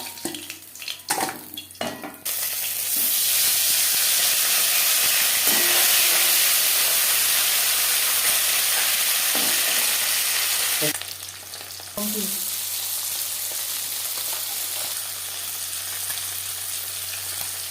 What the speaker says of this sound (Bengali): প্রত্যেক ব্যাচের মাছ একইভাবে ভেজে নেব